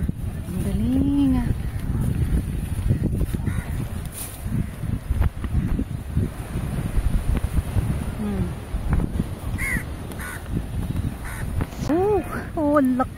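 Several geese honk in loud, nasal calls, some close and some farther off, scattered over steady outdoor noise with people talking at a dry fish processing site in Negombo, Sri Lanka.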